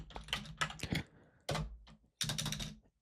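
Three quick bursts of typing on a computer keyboard set up a network switch. The crisp, close clicks are clustered, with short pauses between the runs of keystrokes, and no voice is heard.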